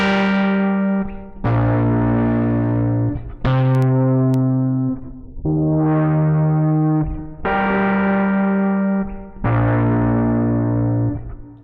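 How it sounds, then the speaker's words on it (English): Heavily distorted electric guitar chords ring out one after another, each held about two seconds, with the high end cut by a filter effect into a darker, buzzy tone. "I do like the great distortion, we're going to add a filter freak just to take off some of that high end"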